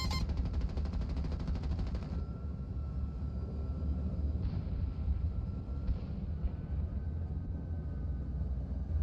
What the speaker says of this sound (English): Now it was time to let the cannon do the talking again.